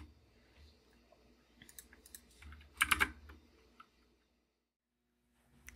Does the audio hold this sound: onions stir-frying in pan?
no